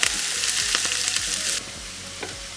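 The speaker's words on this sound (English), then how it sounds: "And cook this until the onions are golden in color." Onions and curry leaves frying until golden in a pan, with a steady loud sizzle and regular scraping stirs that knock rhythmically against the pan. The sizzle drops slightly partway through, and no voice is heard.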